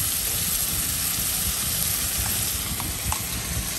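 Spices, cumin, tomato, garlic and ginger paste sizzling steadily in hot oil in a pan for Bengali chitol fish curry, a loud continuous frying hiss with a few faint utensil clicks near the end.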